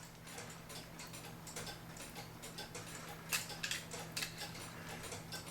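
A German-made Linden Blacksmith mechanical clock ticks steadily at close range, soft even clicks over a low hum, with a few sharper metallic clacks near the end as the movement is handled.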